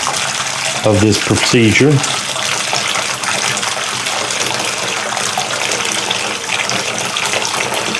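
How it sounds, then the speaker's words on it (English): Nut brown ale wort drains into a fermentation bucket, splashing to aerate it, a loud steady gush of pouring liquid running throughout, with a short spoken phrase near the start. "Drained into my fermentation bucket."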